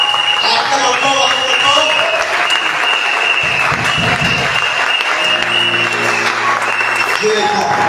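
A church congregation at a worship gathering applauds and cheers loudly and continuously, with dense clapping and raised voices filling the space throughout.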